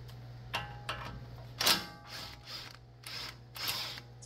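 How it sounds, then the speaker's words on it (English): A 21mm socket ratchet loosening a tie rod nut on a 2005 Toyota Tacoma, giving a series of faint, close clicks and metallic ratcheting bursts over a low steady hum. "Take our tie rod nut off."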